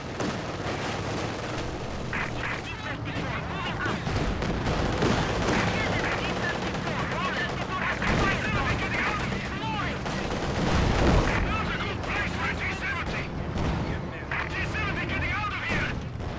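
Machine guns rattle in Company of Heroes 2 battle gameplay, sustained bursts of gunfire mixed with booming artillery and explosions, dense and loud throughout, with in-game unit voices calling out over the combat.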